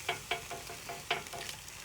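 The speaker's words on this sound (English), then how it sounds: "You can hear that bamboo charcoal sizzle." Steaks sizzle on a bamboo charcoal grill built from an upcycled Freon bottle, a steady crackling hiss with several sharp pops and spits standing out, close and moderately loud with no talking.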